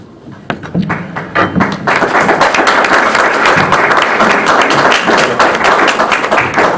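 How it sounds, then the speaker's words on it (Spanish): Audience applause at a book presentation in Buenos Aires, starting with a few scattered claps that quickly swell into loud, dense clapping from a small room of listeners. "No son necesarios los aplausos"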